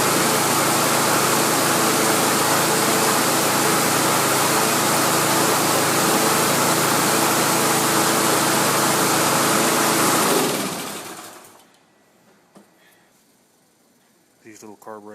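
A Briggs and Stratton single cylinder OHV Intek lawnmower engine runs at a steady loud drone, then cuts off abruptly and leaves near silence with faint handling sounds.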